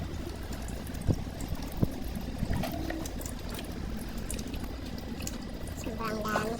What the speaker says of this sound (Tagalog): dinidrain natin yung tubig na na-stuck sa drain pan